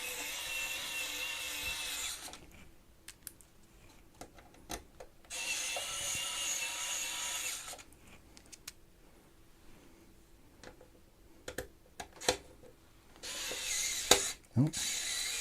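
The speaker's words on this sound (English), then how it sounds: "Let's go back to the old Lecky screwdriver." An electric screwdriver drives screws during an Intel LGA 1851 PC build, with three separate whirring bursts of a few seconds each. Clicks and ratcheting handling noises fall between them, and a voice is briefly heard.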